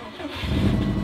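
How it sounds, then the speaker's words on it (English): A built Subaru STI engine fires up for its first startup, cranking briefly then catching into a loud, steady idle close by inside the car. "All right, here we go. First startup."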